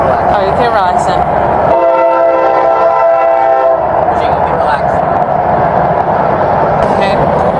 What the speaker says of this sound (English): I'm going to wait till this train passes by so you can listen.